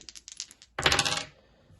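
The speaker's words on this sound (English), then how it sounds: "each player takes it in turns to roll the 2 dice" Two dice rolled together for a children's maths game: a patter of light rattling clicks, then a brighter, denser clatter as they tumble and settle on a hard surface, close and clear with no voices.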